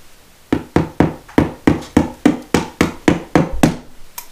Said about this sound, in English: Got my little ball peen hammer.